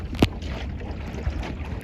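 A small sailing boat on a raid around Yarra Bay, pushed along by an electric propeller motor, gives a steady close rush of water and wind noise, with one brief knock near the start and no voices.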